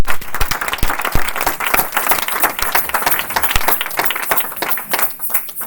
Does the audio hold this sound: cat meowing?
no